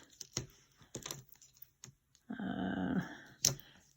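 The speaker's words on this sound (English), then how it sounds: "So with your craft knife, we're going to cut," Craft knife slicing through card between two score lines while making a trifold stepper card, a steady scraping cut lasting under a second, close and fairly loud, set among brief taps and handling noises.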